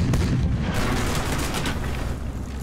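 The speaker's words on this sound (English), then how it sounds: "Reload the rockets and cannons!" Cartoon ship cannons fire a volley in a dense, rumbling barrage of booms that blur together into a loud, continuous roar of battle at sea.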